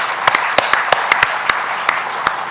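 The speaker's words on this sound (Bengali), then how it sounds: "তাদের উদ্দেশ্যে আমরা একটা হাততালি দিই।" An audience at an outdoor book fair claps together, giving a steady wash of applause punctuated by sharper individual claps for a couple of seconds.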